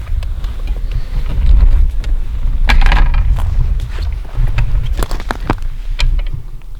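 Strong wind gusts buffet the microphone outdoors, a steady low rumble with surges that swell and ease across the whole stretch, loud and close.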